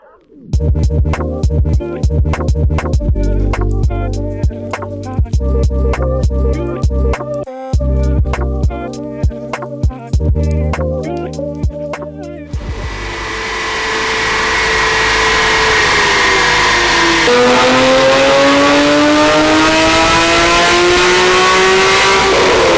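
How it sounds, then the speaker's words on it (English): A Porsche Boxster 981, freshly fitted with airflow parts, revs hard on a dyno: loud, sustained engine roar with rapid repeated blips, then a long steady pull rising in pitch, close and continuous throughout. "we bring this 981 Boxster straight to the dyno machine to see the power gains"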